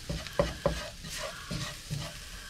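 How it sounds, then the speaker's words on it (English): Madras curry powder and spices stirred and fried in a pan for a vegetable curry: a gentle sizzle runs under a few scraping strokes of the spoon, some sharp knocks, then softer sweeps. "So let's get that stirred in and frying off"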